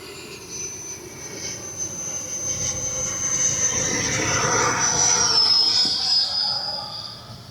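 An FMS 80mm F-86 RC model jet makes a flyby, a high whining turbine roar that swells to a loud peak and then fades away, with no talk over it.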